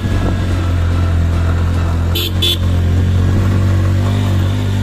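A motorcycle carrying two riders and luggage climbs a steep mountain road between Kalimpong and Darjeeling, its engine droning loudly and steadily up close with a low rumble and a brief dip midway, with wind noise over the ride.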